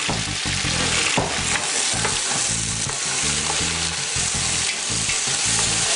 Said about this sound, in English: tossing in these prawns and just watch as they turn pink